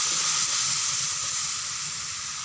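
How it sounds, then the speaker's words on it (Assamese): Bitter gourd and potato frying in a kadai give a steady, close hiss and sizzle, constant through the clip and slowly easing a little, with no talking. "এইফালে কেৰাহী বহাই দিছোঁ ভাতকেৰেলা আলু এনেকৈ ভাজিম"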